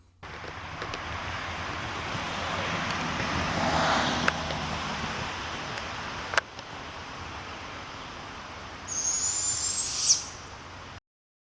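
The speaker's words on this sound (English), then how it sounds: "some barred owls that were nesting in a residential neighborhood" Barred owls nesting in a residential neighborhood call over steady wind and surf-like outdoor rumble, with a brief, clearer call rising near the end; no one speaks.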